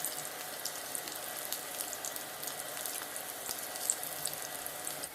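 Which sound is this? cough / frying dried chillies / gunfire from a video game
frying dried chillies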